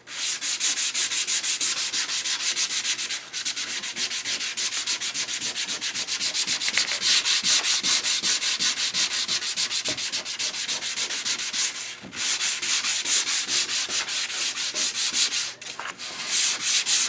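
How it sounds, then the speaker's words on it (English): A copper beech wooden tray being sanded: continuous loud, rasping strokes close up, with brief pauses, and no speech. "I'm going to have to sand the whole damn thing again."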